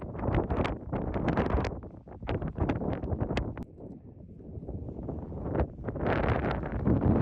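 Strong gusting wind on the summit of Wheeler Peak buffets the microphone in loud, rumbling bursts that rise and fall throughout, with no voices.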